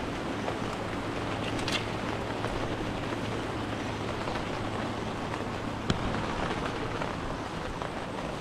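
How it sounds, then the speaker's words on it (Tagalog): Heavy rain pours steadily on a residential lot, a dense, constant hiss of rainfall that holds even and unbroken throughout, with no voices. "ang lakas ng ulan"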